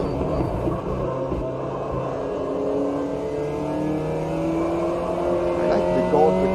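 A Caterham car engine in a racing video game drones steadily at mid pitch, its tone sliding up and down as it revs through gears, with talk faintly mixed in.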